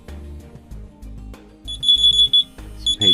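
A G2 smartwatch clone pages its paired phone, which sounds a high, steady electronic alarm tone in repeated pulses from about halfway through, fairly close and alone.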